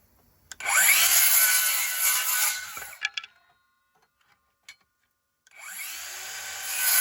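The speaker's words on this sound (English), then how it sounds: "I start by drilling straight down to get a small hole started so it doesn't just slide." A power drill whirs loudly into wood for about two and a half seconds, stops briefly with a few small knocks, then starts spinning again near the end.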